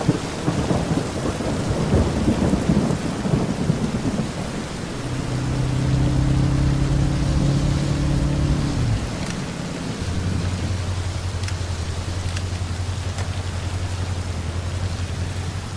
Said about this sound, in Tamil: மழை வந்துருச்சு, மழை நின்று போலாம்.